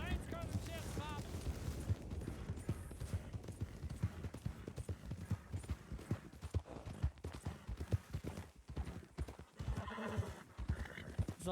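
A horse in a video game gallops and neighs, quick drumming hoofbeats with several loud whinnies up close, while a voice talks over the commotion.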